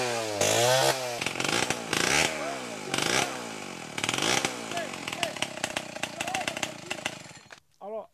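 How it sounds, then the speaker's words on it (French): A chainsaw revs repeatedly in sharp bursts near a palm tree, its whine rising and falling close by, with voices talking over it before it cuts out. "on a le bruit de la tronçonneuse"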